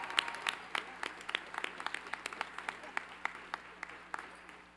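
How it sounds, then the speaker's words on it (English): Applause from a crowd at a law school convocation ceremony, many hands clapping in a steady patter with a few sharper claps standing out, moderately distant. "Now we can give everyone a round of applause."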